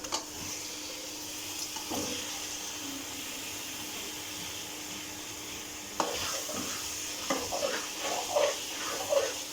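Chicken frying in a pan, a steady close sizzle with stirring scrapes that grow busier and more clattery toward the end.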